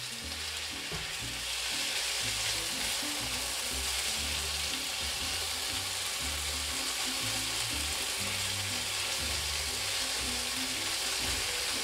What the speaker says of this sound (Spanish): Y sofreímos.